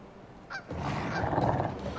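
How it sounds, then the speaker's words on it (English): A large goose in a video game honks once briefly, followed by a louder, sustained honking cry from a wilderness lakeside setting near canoes, heard alone without talk. "Look at how huge this goose is compared to those canoes"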